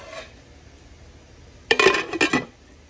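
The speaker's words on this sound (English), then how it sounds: "I'm just going to place the lid on this" A lid is set onto a pot of pinto bean soup with Polska kielbasa and hamburger meat, making a short cluster of close metallic clinks and rattles after a quiet stretch.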